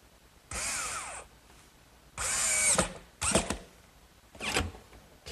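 Power drill driving screws into the wooden base of a bookcase in a woodworking shop: four loud close whirring bursts with rising and falling pitch, separated by short pauses.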